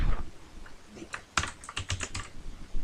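Keystrokes on a computer keyboard, an uneven run of sharp, close clicks with a few louder taps, heard alone without talk.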